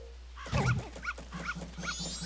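Short yapping barks from a dog in Zelda: Majora's Mask, a run of several quick game-sound yelps after a louder opening burst, set over a steady low hum.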